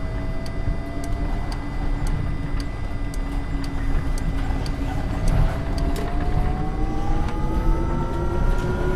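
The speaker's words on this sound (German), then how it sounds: "Da hört man die Motoren und alles pfeifen" Electric motors of a Mercedes eBus whine in the bus simulator game Omsi 2, a steady high-pitched tone with rising pitch glides over a continuous rumble of driving noise, with no talking.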